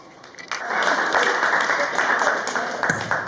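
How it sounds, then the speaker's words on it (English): A crowd at a spoken-word event applauds, a steady wash of clapping with sharp individual claps poking through, and a few voices mixed in. "Clap it up."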